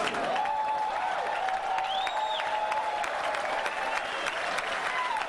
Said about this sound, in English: and then walked off the stage to applause